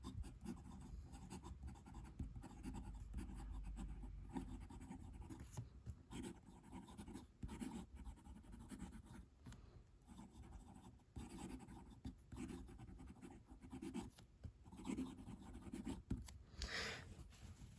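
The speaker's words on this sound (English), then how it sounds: "So you can hear there is a little bit of feedback on this nib." Parker Duofold Centennial fountain pen nib filled with blue-black ink scratching across paper, a long run of soft, close, irregular strokes with slight feedback and brief pauses, no talking.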